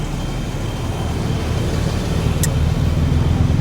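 Road traffic at a turning in Gumaga where a pickup and a truck collided, a steady low rumble of engines close by and continuous throughout, with a brief faint high click midway.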